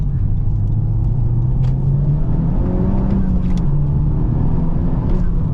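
A 2017–21 Honda Civic Type R with a turbocharged engine and manual gearbox accelerates hard, its engine note loud and close, rising steadily in pitch as it pulls through a gear.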